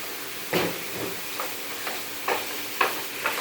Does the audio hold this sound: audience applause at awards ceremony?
no